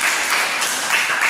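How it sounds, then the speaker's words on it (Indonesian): Short burst of dense applause for a whole class in a school lesson, many hands clapping at once, close and steady. "Sekali lagi mari beri aplaus untuk seluruh."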